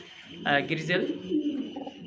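Racing pigeons coo in soft, throaty bursts close by, with a low background murmur running underneath throughout.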